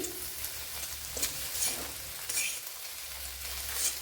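Scrambled egg fries in a pan with a soft, steady sizzle and faint scraping stirs, close and quiet, with no talking.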